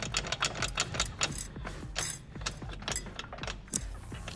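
A worn, loose part on a 1987 Mitsubishi Pajero MK1 knocks and rattles repeatedly as it is moved back and forth, close and clattery, with no voices.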